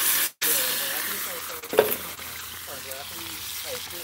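Plantain fries sizzling in hot oil at an outdoor yard cookout, a constant crackling hiss with a brief clatter partway through, close and loud with no talking.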